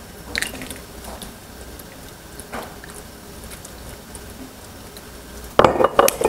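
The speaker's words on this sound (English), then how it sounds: "We'll give that a little stir here." A spoon stirring fire roasted diced tomatoes into a pot, soft wet squishing with a few light metal clinks against the pot, then a louder clatter near the end.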